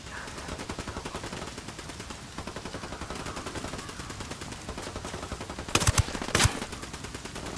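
Sustained rapid automatic gunfire in the video game Ghost Recon Wildlands, a dense steady stream of shots near the listener, with a few louder sharp cracks near the end.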